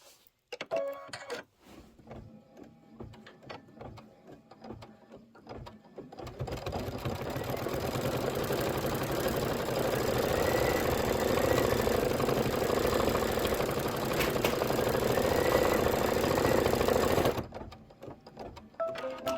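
An embroidery machine stitches a tack-down on a quilt block, starting with a few short bursts and pauses before settling into a loud, steady, rapid mechanical whirr that runs for about ten seconds and then stops.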